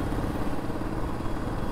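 Honda NX500 motorcycle engine running while riding, a steady mid-pitched drone with a constant rumble and no talk over it.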